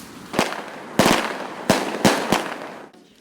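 Several sharp firework bangs burst at uneven intervals, loud and crackling, with a short pause between the last few blasts.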